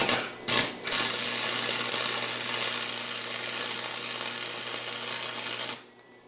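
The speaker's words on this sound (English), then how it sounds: "So let's see if we can weld that up." A welder works on a cracked go-kart frame, giving a loud, dense crackling buzz that starts in two short bursts, then runs steadily for about five seconds before stopping abruptly.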